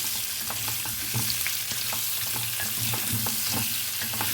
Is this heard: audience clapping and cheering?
no